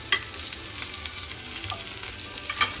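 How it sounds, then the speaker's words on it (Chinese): Steak fries in melted butter with garlic added, a soft, fairly quiet sizzle with scattered small pops and a couple of sharper clinks of a utensil against the pan. "直接扔一块黄油下去让它融化"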